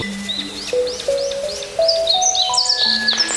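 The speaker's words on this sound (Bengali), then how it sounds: "সাথে ছিল মোরগের ডাক এবং পাখির ডাক।" Birds call and whistle around a village in Cumilla, Bangladesh: a run of short rising chirps and sustained tonal notes, fairly close and overlapping, with a soft background of other birdsong.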